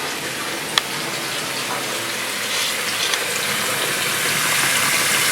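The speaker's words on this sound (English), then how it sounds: "Just leave the water on." Cold tap water runs steadily to cool a one-gallon home brew, a continuous close hiss and gush of flowing water with slight swells and no voices.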